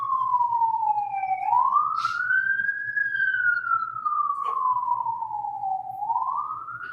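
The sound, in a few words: police siren passing outside courtroom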